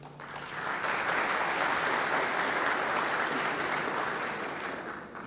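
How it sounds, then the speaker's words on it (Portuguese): An audience at a governor's lecture applauds, with dense clapping that swells quickly, holds steady for several seconds and then begins to fade. "Para a turma te aplaudir, menina."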